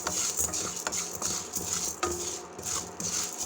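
Sago pearls roasting in a pan are stirred in a brisk, even rhythm, each pass giving a close scraping rattle of dry pearls against metal. Faint sizzling runs underneath and nobody speaks.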